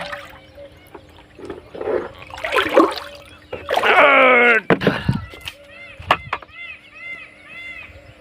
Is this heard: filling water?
yes